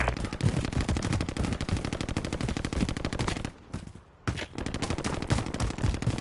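Rapid bursts of automatic gunfire in a PS4 video game pound in dense, continuous volleys, loud and close, with a short lull before the shooting resumes.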